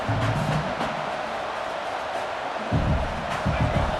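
Stadium crowd roaring in the video game EA Sports College Football 26, a steady dense wall of noise that swells louder toward the end and runs throughout.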